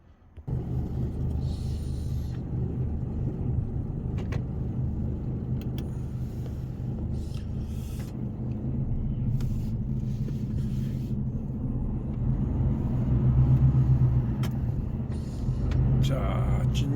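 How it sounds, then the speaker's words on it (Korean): Car engine running and driving on a Korean expressway after a rest stop, heard as a steady close low rumble of engine and road noise inside the cabin throughout, with no talk. "시동 걸고 출발합시다"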